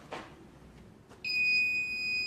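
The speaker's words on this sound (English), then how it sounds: "the buzzer and the LED. That's loud." An electronic buzzer on a 2017 SCOUT class ROV at a mission demonstration. After a short, quiet stretch with faint background noise, a loud, steady high-pitched tone sounds continuously until the end.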